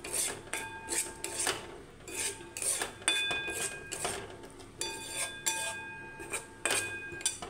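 Spoon scraping and clinking against a bowl while leaf chutney made from thalkur leaves is mixed with squeezed lemon juice, in irregular bursts of scrapes and taps, close and moderately loud, with no talking.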